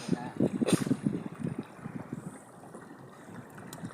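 A small boat moves along the river at Dhansri, with soft water splashes and lapping near the hull and light wind buffeting the microphone, loudest at first and then settling into a quieter wash.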